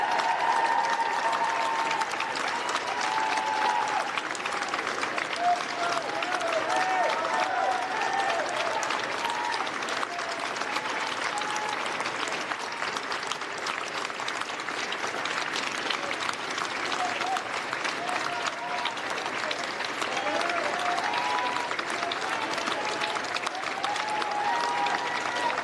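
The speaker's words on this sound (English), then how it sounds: "And applause inside" Sustained applause from a crowd outside a building, dense steady clapping that carries on without a break, with faint cheering and voices mixed in.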